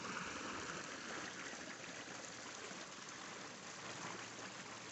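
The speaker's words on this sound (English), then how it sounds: "Lots and lots of Florida has pure water bubbling up out of gigantic springs." Florida spring water bubbling up from the ground makes a soft, continuous rushing hiss, faint and steady throughout with no voices.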